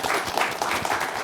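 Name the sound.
audience applause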